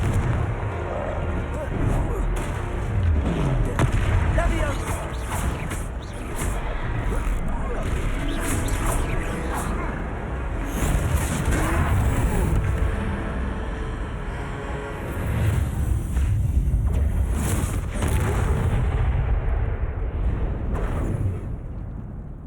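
Confringo blasting-spell explosions fought against a troll in a Harry Potter video game, a dense run of loud booms and bursts layered with game music and effects, with a voice talking over them.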